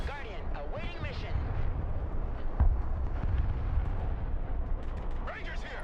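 Strafing run in the combat game Broken Arrow: a sustained roar of rapid gunfire and explosions with jet sweeps, steady and loud throughout, with radio chatter voices over it.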